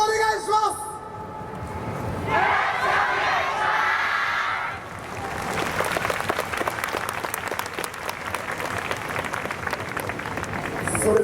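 A crowd claps and cheers for a YOSAKOI Soran dance team from Sapporo City University at the 2023 festival semifinal. A voice comes first, then loud sustained applause with rhythmic hand clapping and shouts swells and continues throughout.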